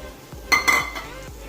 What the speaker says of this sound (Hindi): अब हम इसमें डाल देंगे टमाटर की प्यूरी।